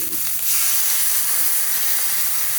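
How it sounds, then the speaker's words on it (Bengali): Water poured into a simmering cauliflower and potato curry (phulkopir dalna) gives a brief splash, then a steady loud steam hiss and sizzle that fills the pan. "আমি এটার মধ্যে জল দিয়ে দেবো প্রয়োজন মতন"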